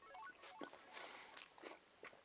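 Crunchy raw onion being bitten and chewed up close, a few crisp snapping crunches scattered through a quiet stretch, alone with no talk.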